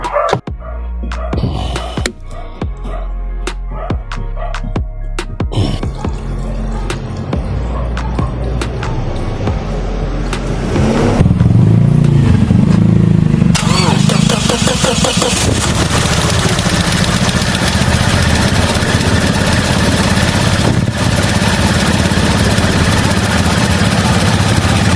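A Toyota Fortuner engine that runs rough after a head gasket repair, idling unevenly up close, then a louder, steady roar from about eleven seconds on.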